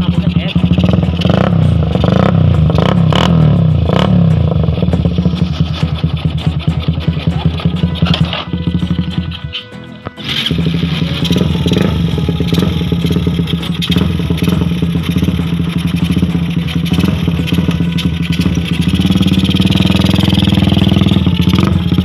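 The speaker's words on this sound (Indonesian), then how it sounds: "saya pengen tahu suara knalpotnya ya" A modified FU motorcycle with an aftermarket exhaust runs loud and close, a rough, steady engine roar that briefly dips near the middle before picking back up.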